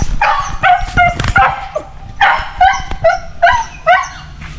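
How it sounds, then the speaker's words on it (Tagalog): Dog named Tuga barking and whimpering close by, repeated high yelping barks and whines in uneven bursts. "Dito si Tuga, ating aso."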